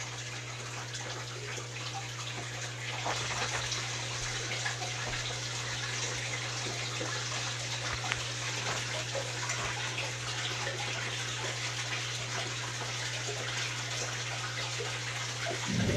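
A homemade gravel cleaner drains water from a piranha aquarium, giving a steady, continuous gushing and trickling flow over a low electrical hum, with no talking.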